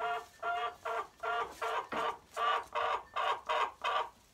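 A Barred Rock chicken clucks in a steady series of about nine short, throaty bursts, close by and fairly loud, with no talking.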